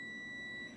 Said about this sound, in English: So you heard my oven beeping.